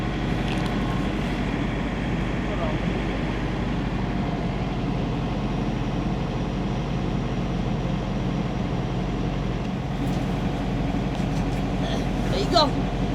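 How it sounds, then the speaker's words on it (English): A steady low mechanical drone of a truck's reefer refrigeration unit running hums continuously beneath nearby conversation, with brief clatter toward the end. "I just cut the reefer on."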